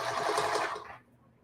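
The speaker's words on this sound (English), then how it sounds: "Right now I'm sewing over the other handle" A sewing machine runs in a quick, even buzz of rapid stitches through the thick layered handle of a feedsack hobo bag, then stops abruptly near the end, close and clear.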